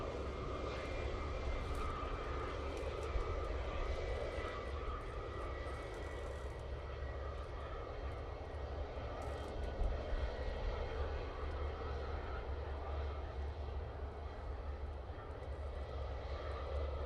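Steady jet roar of an airliner's engines on the runway at Manchester Airport, a loud continuous rumble and whine heard from nearby, alone without talk.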